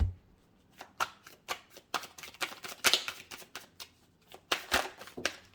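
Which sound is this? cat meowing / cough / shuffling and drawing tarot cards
shuffling and drawing tarot cards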